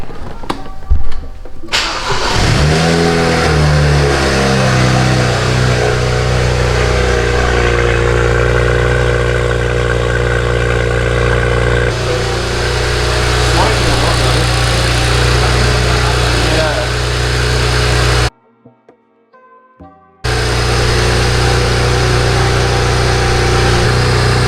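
BMW N54 twin-turbo engine with a rattling wastegate held against the rev limiter, a loud sustained droning rev that cuts out briefly and then returns, close by, with voices barely present under it.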